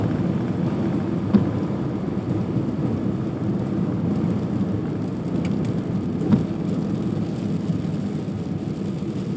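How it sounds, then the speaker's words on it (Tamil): Steady roar of heavy rain and road noise heard from inside a vehicle driving at night, with a couple of brief thumps breaking through. "மழை கொஞ்சம் அதிகமாகிடுச்சு."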